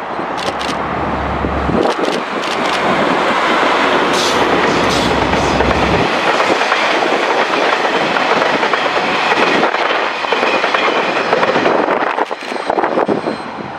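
A short KiwiRail freight train led by a DL class diesel locomotive rolls past at Mount Maunganui on a hot day, a loud, steady rumble and clatter of wagons close by throughout, with no talking.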